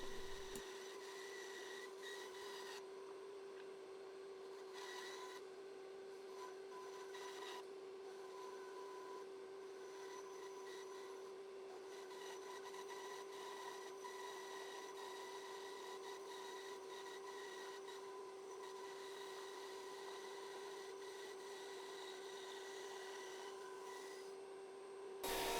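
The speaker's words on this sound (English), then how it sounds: "do a little bit of bandsawing with my trusty bandsaw" A bandsaw cutting a piece of maple in a garage, a steady faint whirring hum with a constant tone and light rasping over it, continuous throughout.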